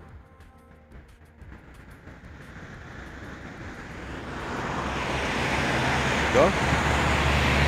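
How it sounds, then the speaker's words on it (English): Steady traffic roar of cars passing on a nearby road, building louder toward the end, with a brief spoken word near the start. "A lot of cars are passing."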